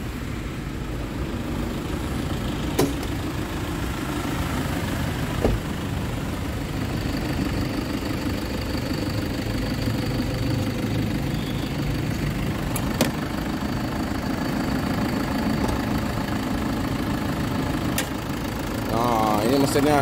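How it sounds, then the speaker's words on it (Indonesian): A Toyota Fortuner TRD VNT turbo diesel idles with a steady low, slightly knocking clatter, close up, while someone talks over it and a few sharp clicks break in. "Mesinnya itu deh, mesin diesel biasa ya,"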